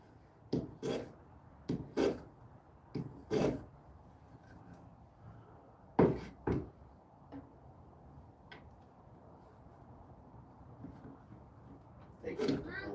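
A wooden blank is shaved at the corners into an octagon, giving short, scraping rasp strokes in irregular bursts separated by quiet pauses, close and moderately loud.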